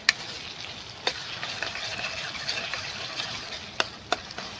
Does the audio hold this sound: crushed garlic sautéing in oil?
yes